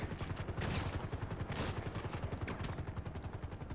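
Rapid bursts of automatic gunfire in the video game GTA, a dense, continuous rattle of shots in quick rhythmic volleys, loud and close with no pauses throughout.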